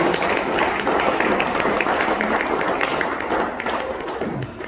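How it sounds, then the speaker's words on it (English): Wedding guests clap for the newly married couple after a toast, a dense, steady patter of many hands filling the room at close range for several seconds before easing slightly at the end. "Let's give them a well-deserved round of applause"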